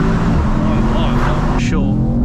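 A 612 bhp Mercedes E63 S 4Matic accelerates hard from a launch-control start, its engine roaring loudly and continuously, with a rising tone as the car pulls away.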